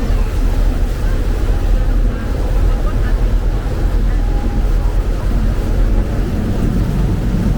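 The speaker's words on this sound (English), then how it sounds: "the boat's going to pick up speed, and yeah, it's all going to get very noisy again." A sightseeing boat on the River Thames in London: a steady low engine rumble with rushing water and wind noise runs throughout, loud and continuous.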